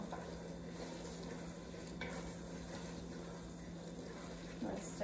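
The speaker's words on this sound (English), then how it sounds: "let's stir that in real fast" Onions and peppers stirred as they fry in a pot for beef, chorizo and pinto bean chili, a soft steady sizzle with quiet scraping strokes, faint and close.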